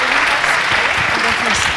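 Steady, close audience applause fills a short stretch at a Spanish-language talk, dense continuous clapping with a voice speaking faintly underneath.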